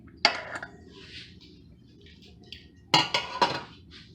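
Cooked potatoes going into a pot of chile colorado with beef and guajillo sauce make a clinking, clattering sound: one knock early, then a cluster of three or four close, fairly loud clinks near the end, with quiet between.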